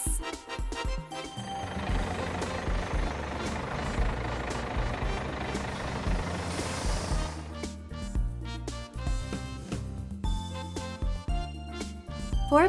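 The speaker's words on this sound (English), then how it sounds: "Bus." Toy bus with an engine sound effect: a continuous rumbling motor and broadband noise for about seven seconds, then choppier tonal engine bursts with beeping accents, fairly loud throughout, no speech.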